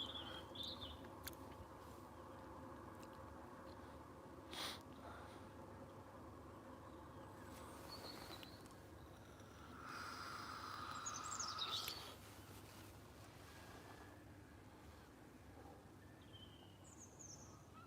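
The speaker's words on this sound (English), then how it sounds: "Hopefully you can all hear the birds tweeting away and seagulls" Faint birds chirp and tweet, with seagulls among them, over a steady low background rumble at daybreak, a few distant calls rising briefly.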